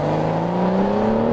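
Turbocharged inline six-cylinder engine of a BMW X5 SUV pulling under acceleration, a smooth steady hum with rising tones, heard from inside the cabin with no talking.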